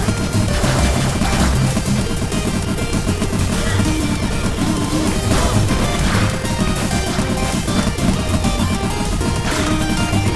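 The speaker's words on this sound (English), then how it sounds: "Basically run from the explosions" In the video game 20XX, dense game explosions and crashing impacts fire in a rapid, continuous barrage over loud game music, with no talk.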